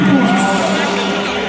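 A large crowd at an official launch rally of the Alliance Congolaise Progressiste applauds and cheers loudly. The dense, sustained noise holds at a steady level for the whole short stretch.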